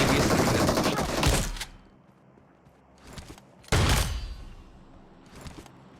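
DBS shotgun gunfire in the mobile battle royale game BGMI: two loud, close blasts, the first a dense burst and the second a sharp crack with a trailing tail, separated by quieter game ambience and faint distant shots.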